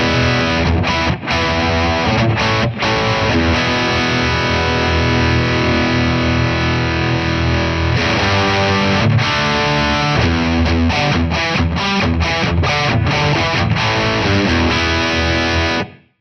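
Heavily saturated electric guitar played through a Friedman IR-X twin-channel high-voltage valve preamp with its boost engaged, giving thick, loud distorted chords and riffs with brief choppy gaps and a sudden stop at the end.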